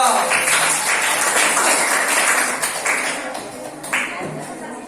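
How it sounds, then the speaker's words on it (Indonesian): A classroom group gives applause for the first presenting group, a dense burst of clapping that holds steady and then thins out over a few seconds. "kasih aplaus dulu buat kelompok satu"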